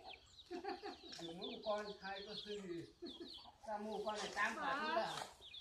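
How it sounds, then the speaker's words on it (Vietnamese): Dong Tao chicken on a Vietnamese farm clucking close by in repeated short bursts, mixed with people talking over and between the calls. "Con này có phải là gà Đông Tảo không?"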